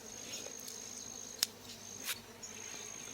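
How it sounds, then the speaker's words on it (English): A wild bee swarm held in a beehive box in Hawai'i gives a faint, steady high insect whine with a few soft clicks and taps, close by and without speech. "Here's me holding bees. A beehive."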